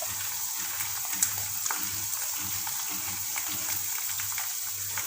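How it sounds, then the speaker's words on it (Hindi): Ground spices for an aloe vera curry fry in an oil-filled pan, a steady close sizzle with faint stirring scrapes throughout and no voices. "सारे मसालों को हम अच्छे से मिक्स करके भून लेते हैं"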